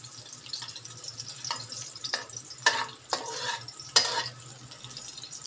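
Stir-frying in a wok for chow mein, a low sizzle with several sharp scraping tosses of the spatula at irregular intervals, close by.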